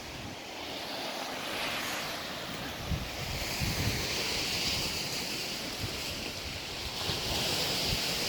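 Waves wash steadily onto the Lake Superior shore while wind buffets the microphone, a continuous loud rushing roar with occasional low thumps of breaking surf.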